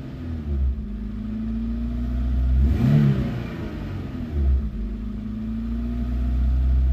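A barn-find car's engine runs steadily near the microphone after a cold start, with a couple of throttle blips rising and falling over the deep rumbling idle.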